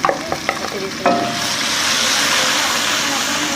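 Chillies and onions fry in a pan while cooking saag, with a few stirring clinks at first, then a loud, steady sizzle that carries on close up.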